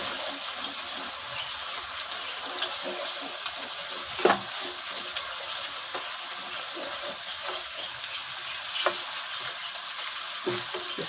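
Softened tomatoes sizzle and crackle steadily in a hot pan while being fried for masoor daal, with occasional stirring scrapes, close and continuous.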